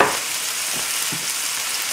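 A pan of mixed vegetables fries hard over a high flame for a soup, giving a loud, dense, even sizzle with a few soft stirring bumps; there is no speech.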